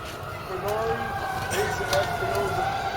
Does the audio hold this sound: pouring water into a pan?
no